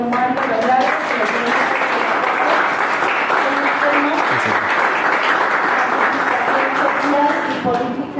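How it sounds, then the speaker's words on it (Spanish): An audience at a talk on Catholic political participation claps loudly and continuously for several seconds, a dense steady applause with a few voices faintly audible beneath it. "Demos un aplauso, por favor"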